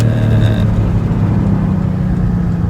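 A Porsche Panamera S E-Hybrid with a custom exhaust revs loudly up close, a short sharp throttle blip that quickly settles back into a steady low rumble.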